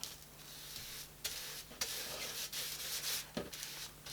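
A brush spreads thin coats of pastel ground onto paper, heard up close as soft, quiet scratchy rubbing strokes in irregular bursts with brief gaps between them.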